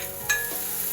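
Chopped onion and capsicum sizzle in butter in a pan for a quick paneer dish, with a sharp burst about a third of the way in, then a steady, close frying hiss with no talk.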